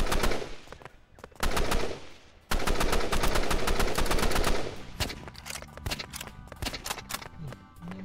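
Rapid bursts of automatic gunfire in Roblox Rivals, loud and continuous at first, then thinning into scattered shots with game sound effects underneath.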